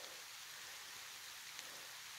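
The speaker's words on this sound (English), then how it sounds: "I wanted to record the rain." Rain falls on the surface of Bear River, a soft, even, continuous hiss heard under a tree, with a faint drip or two standing out.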